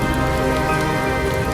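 Heavy stormy rain pours down in a dense, unbroken hiss and patter, loud and close with no talk and no pauses.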